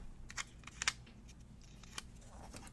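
Scissors snip through paper for a planner spread, a few faint, crisp cuts in close succession followed by a lone later snip in a quiet room.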